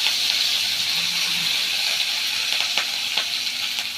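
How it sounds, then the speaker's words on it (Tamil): Curry leaves and coriander sizzle and crackle in hot oil for a fish kolambu, a steady close frying hiss with scattered sharp pops toward the end. "எண்ணெய் வந்து காஞ்சிக்கிறதுனால கடகடன்னு ஆகிடும்"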